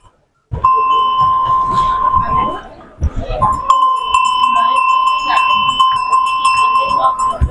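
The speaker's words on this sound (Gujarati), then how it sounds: "શેના માટે આવે છે આ ઘંટ? ગાયો માટે છે, પશુ માટે છે ને?" Metal cattle bells made for cows and other livestock, sold at a handicraft fair stall in Vadodara, ring in a sustained, bright tone, struck again after a short pause amid the fair's clatter.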